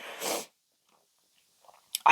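A single short, breathy sneeze bursts out close to the mic at the start, followed by near silence and then a few faint rustles and a brief noise at the end.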